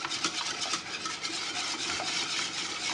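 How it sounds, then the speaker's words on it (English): A whisk works steadily through a cheese sauce for cauliflower cheese, giving a fast, even scraping and rubbing rhythm against the pan, close and continuous throughout. "so now it's time for the whisk"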